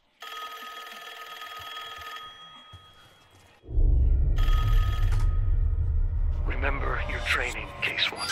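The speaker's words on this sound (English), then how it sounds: "I don't want to answer that phone." A telephone ringing in the video game Call of Duty Black Ops 6: a loud, repeating electronic bell tone in sustained bursts, followed by a heavy low rumble and shrill game effects.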